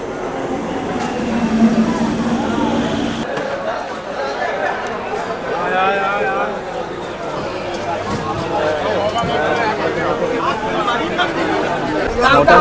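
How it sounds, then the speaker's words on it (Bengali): Boarding a commuter train bound for Sealdah, with a constant wash of crowd chatter, footsteps and low train rumble filling the carriage and several people talking nearby. "মোটামুটি ট্রেনে উঠে পড়েছি।"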